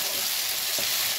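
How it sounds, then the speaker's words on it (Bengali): Tomato fries in a pan for Odisha-style katla fish curry, a steady, close sizzle with a faint stir partway through. "যতক্ষণ না পর্যন্ত টমেটোটা গলে যাবে ততক্ষণ আমাকে এটা ভাজতে হবে"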